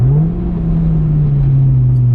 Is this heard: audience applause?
no